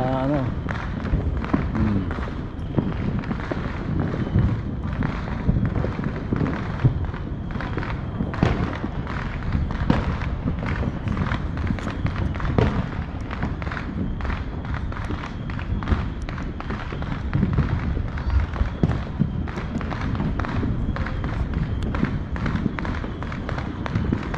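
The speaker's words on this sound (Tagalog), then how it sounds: "makikinig na lang tayo kasi wala tayo makitang fireworks na sa taas" Fireworks burst in the distance in a rapid, continuous series of pops and dull thumps, the explosions crowding close together for the whole stretch under a steady wash of crowd noise and voices.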